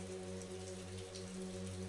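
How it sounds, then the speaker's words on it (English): Steady rain falls continuously in a quiet village, an even wash of patter with a low constant hum underneath, no voices. "Goodness me, this rain just won't let up"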